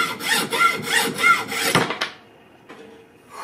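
A hacksaw cuts during a Nakiri vegetable knife restoration, rhythmic rasping back-and-forth strokes, about six close, loud pulls, then stopping abruptly into near silence with a faint scrape at the end.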